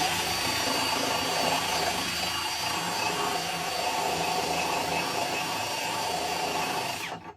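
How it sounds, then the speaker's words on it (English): A power drill spins a round file against the surface of a front differential mount bushing on a 2007 Yukon, a loud, steady high-pitched whirring grind that holds evenly for about seven seconds before cutting off. "take a round file, stick it in my drill"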